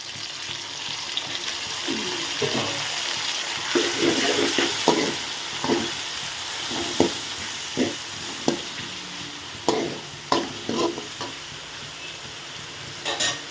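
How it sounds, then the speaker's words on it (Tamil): Tomatoes and sliced onions fry in a pan for a meat curry, a soft steady sizzle broken by rhythmic scraping knocks of a spoon stirring, close and moderately loud, with no talking. "இப்போ அடுத்தது வந்து நம்ம தக்காளி பழம் போட போகிறோம்"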